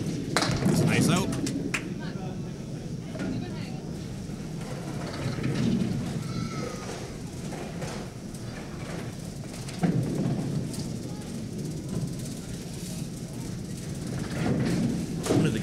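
Steady rain falls outside a candlepin bowling alley during a storm, with low rumbles of thunder rolling underneath at a moderate, even level throughout.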